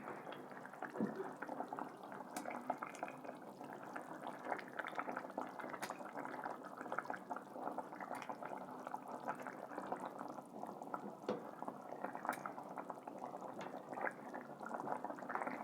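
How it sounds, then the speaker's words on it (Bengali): Rohu fish curry broth at a steady rolling boil in a pot, a continuous dense bubbling with small pops and crackles, fairly close and unbroken throughout. "ঝোল ফুটে গেছে"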